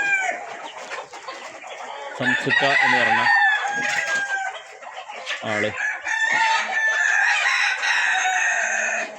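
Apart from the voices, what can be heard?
roosters crowing and clucking on a farm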